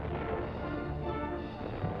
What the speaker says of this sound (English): Emergency dressing stations carry on amid a din of bursting bombs and deafening explosions.